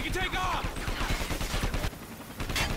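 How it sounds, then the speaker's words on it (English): Rapid video-game gunfire from Call of Duty: Ghosts rattles in dense bursts of overlapping shots, loud and continuous for nearly three seconds with a brief dip near the end, as a voice speaks over the firefight. "we're kind of being shot at"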